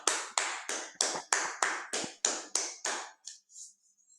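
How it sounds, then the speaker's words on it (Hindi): Clapping from online meeting participants coming through a computer, about a dozen sharp, evenly spaced claps that fade away toward the end, sounding crisp and close with no talk. "सब लोग अपने अपने लिए एक बार अनम्यूट करके तालियों की गड़गड़ाहट करके देखते हैं"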